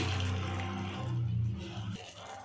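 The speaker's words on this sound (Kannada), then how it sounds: "ಈಗ ಸ್ವಲ್ಪ ನೀರು ಹಾಕ್ತಾಯಿದ್ದೀನಿ." Water is poured into a cooking pan of spiced capsicum and onion masala, a short splashing pour lasting about two seconds before it stops.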